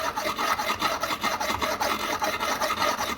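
Knife being sharpened on a Spyderco Sharpmaker stone, close rhythmic rasping strokes repeating steadily and evenly, with no talking.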